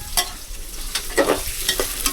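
Chopped onion frying in oil in a pan while a spoon stirs it: steady sizzling hiss with repeated scraping strokes and light clinks of the spoon against the pan, close and continuous, no talking.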